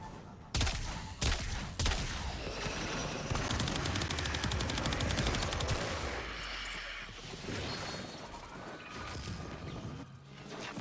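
Video game gunfire during a stream, with dense bursts of automatic shots and scattered single cracks running for about ten seconds, loud and close and mixed with other in-game noise.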